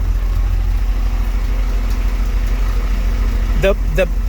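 A Saturn S-series car with a rear-mount turbo engine idles smoothly, a steady low rumble that carries on evenly, with a voice briefly heard near the end.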